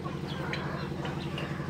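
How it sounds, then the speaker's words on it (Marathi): Guinea fowl and turkeys call from a farm enclosure, a few short, chirpy cries rising faintly over a steady low hum, with no talking. "टर्की आणि गिनीज."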